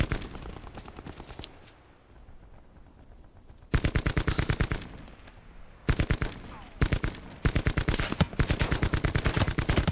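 Rapid automatic gunfire from a multiplayer shooter video game, loud bursts of repeated shots in several volleys separated by a quieter lull, with a brief burst at the start.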